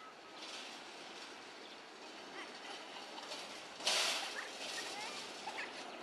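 Small sugar mill locomotives at PG Semboro running along rails toward a crossing near Rejo Agung, a faint steady rolling rumble with a brief sharper clatter partway through and a voice talking over it.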